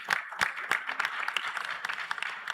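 An audience at a Moroccan SME business launch event claps, the separate sharp hand claps coming quickly and unevenly, a modest-sized crowd at medium distance, fairly light and steady, with no talking.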